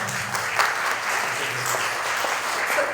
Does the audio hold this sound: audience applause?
yes